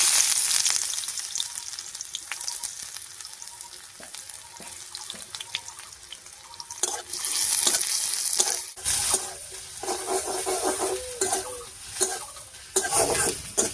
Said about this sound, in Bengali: পেঁয়াজ আর লঙ্কাটা বেশ লাল লাল করে ভেজে নিয়েছি